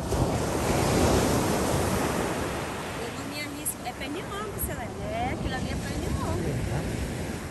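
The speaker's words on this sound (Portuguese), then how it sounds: "Olha, o marzão é mar aberto aqui, ó." Open-sea waves roll onto a beach at Macaé on the Rio de Janeiro coast, a loud continuous wash of surf with gusty wind buffeting the microphone and voices talking faintly beneath.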